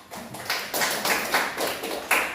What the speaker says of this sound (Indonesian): Jadi tepuk tangan untuk Fitra